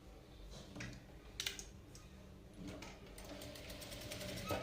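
A sewing machine stitches a cutwork design, a quiet, steady mechanical whir with rapid needle clatter, a few short clicks and taps of handling, running continuously at close range.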